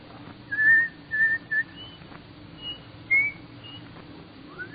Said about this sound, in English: Let me hear you whistle Coming Through the Rye.